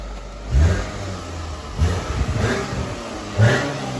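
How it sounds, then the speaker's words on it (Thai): A car engine idles steadily with a low rumble, swelling softly every second or so, moderately near and with no voices. "เสียงเครื่องนิ่มๆเงียบๆเลยนี่ประมาณนี้เลย"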